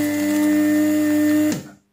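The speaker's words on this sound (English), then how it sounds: "The third method, desoldering gun." A desoldering gun pressed onto a through-hole PCB pin runs with a loud, steady mechanical hum for about a second and a half, then cuts off sharply and fades to silence.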